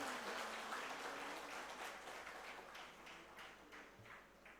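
An audience applauds at a Bhagavat katha in Jagannath Puri. Dense clapping starts out full and gradually fades into scattered claps, sounding soft and somewhat distant.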